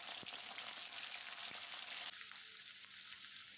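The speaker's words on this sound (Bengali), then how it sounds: "আর তেলটা গরম হয়ে গেলে এভাবে একটু চারিদিকে ছড়িয়ে দিয়ে এর মধ্যে দিয়ে দেব একে একে সব পনির" Paneer pieces fry in hot refined oil in a kadai, a steady close sizzle with occasional small pops and crackles, no talking.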